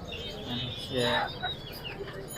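Chickens at a busy bird market in Mirpur, Dhaka, cluck and squawk in short bursts against a crowded background murmur, fairly close, with people talking nearby.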